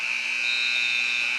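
A loud, sustained electronic basketball game buzzer drones steadily with a harsh, bright edge, covering the whole moment without a break.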